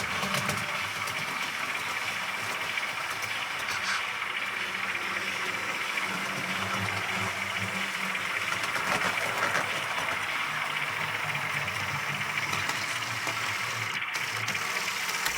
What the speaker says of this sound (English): the locomotive just found a weak point in the track again, although I must note it did not stall, it just hesitated.